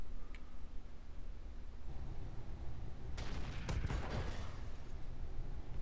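Mech weapons firing in Roguetech, a quiet stretch broken after about three seconds by a cluster of loud blasts and crackling impacts, then fading to a low rumble.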